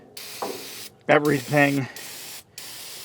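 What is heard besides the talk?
spraying engine degreaser on a car engine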